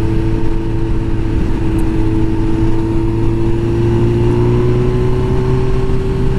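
A 2005 Suzuki GSX-R1000 K5 sportbike on a test ride, its engine droning loud and steady close by, the pitch climbing slowly as it pulls along, with wind rush over the top.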